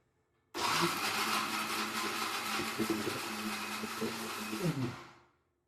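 A kitchen mixer grinder grinds thick coconut paste, a loud steady whir starting abruptly, churning with slight knocking, then winding down as it is switched off.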